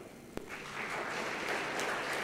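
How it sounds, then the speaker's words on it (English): A small audience at an AI conclave in a Trichy hotel conference hall claps. The scattered applause is moderately faint, starts with a single sharp clap, then settles into a steady patter without speech. "I would like to thank the 3 people who clapped that side"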